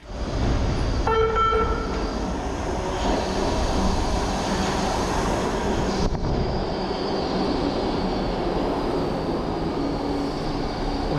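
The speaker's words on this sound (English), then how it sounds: "A short time later, another Bud train arrives, consisting of just 2 cars." A two-car Budd subway train rolls into a Baltimore station with a steady loud rumble, a short horn toot near the start, and a shift in the noise midway.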